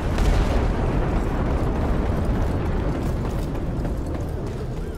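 A frag grenade bursts in the multiplayer shooter Ironsight, a loud, dense rumbling blast that sustains a heavy low roar for several seconds with no speech.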